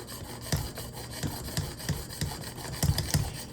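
Kitchen knife ground on a Work Sharp Precision Adjustable sharpener, a faint rasping back-and-forth rub of steel on abrasive in a steady rhythm of short strokes.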